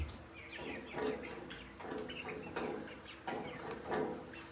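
Several hens, Isa Browns, Buckeyes and Australorps, cluck and murmur close by in a backyard pen, a repeating series of soft, overlapping calls over a low outdoor background.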